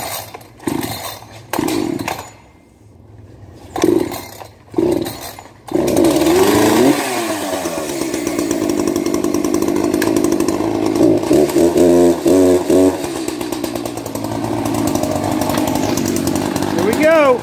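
A Timberwolf chainsaw is pulled and sputters a few times, then catches and runs loudly and continuously, revving up and down, with voices briefly audible at the start.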